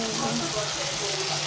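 Food sizzling and frying in a pan while an afternoon snack is cooked, a steady close hiss of crackling oil running throughout with no breaks.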